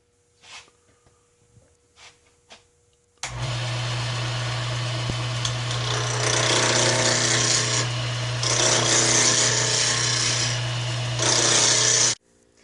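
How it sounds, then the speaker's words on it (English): A roughing gouge rounds the edges of a pen blank on a wood lathe. After a few quiet knocks the motor starts with a steady hum, and a loud, continuous rasping cut follows, swelling and easing as the tool works the spinning wood. "The first thing you want to do when you turn is round off the edges. I'll be using a roughing gouge for that."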